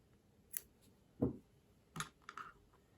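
A few sharp snips of scissors cutting crochet yarn after chaining two, sounding as isolated close clicks and a brief rustle, quiet and spaced apart with no talking.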